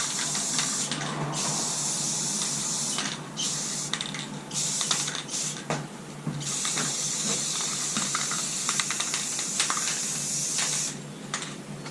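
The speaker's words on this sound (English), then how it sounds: "I'm spraying them now" Aerosol clear coat sprayed in steady hissing bursts onto repainted LED garden lanterns, close and loud, with short pauses between passes.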